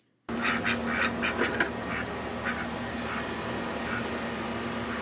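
A group of ducks quacks repeatedly in short, uneven bursts, busiest early on and then thinning to scattered calls, heard at moderate distance over a constant outdoor background hiss.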